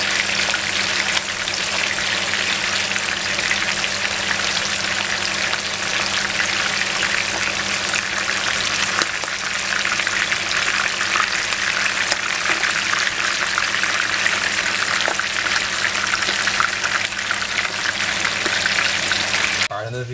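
Bami fries in a pot of hot oil, crackling and popping densely and continuously, loud and close, with faint talk underneath.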